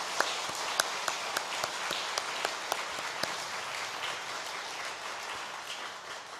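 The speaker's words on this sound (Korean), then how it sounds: "하나님께 영광의 박수를 돌립시다." A church congregation applauds during a Monday dawn prayer service, the clapping steady and moderately distant, with a few sharper individual claps standing out early before it eases off.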